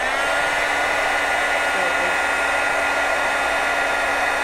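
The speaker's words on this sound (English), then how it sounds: "And now I'm gonna dry it with the heat tool." A handheld heat tool blowing hot air to dry transparent acrylic paint on a conditioned gourd, a steady, loud, even whirring hiss that holds unchanged throughout with no pauses.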